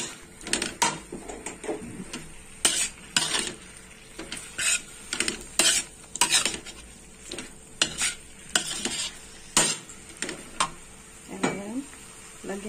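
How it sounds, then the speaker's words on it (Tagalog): Pork with black fungus and oyster sauce is stirred in a pan, irregular scraping and clattering strokes of a utensil against metal over a soft sizzle, close and distinct with short pauses between bursts. "stir a bit"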